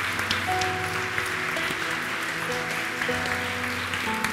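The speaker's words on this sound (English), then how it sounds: "Keep clapping." Church congregation clapping steadily throughout, with sustained music tones underneath and no break in the applause.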